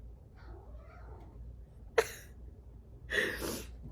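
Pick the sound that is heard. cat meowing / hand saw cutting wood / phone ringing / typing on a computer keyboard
cat meowing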